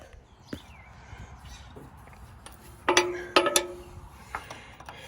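Wrench loosening a nut on a square-headed engine bolt of an Agricat aircraft, with metallic ratcheting clicks and scraping clustered in the middle, moderately close over a low background.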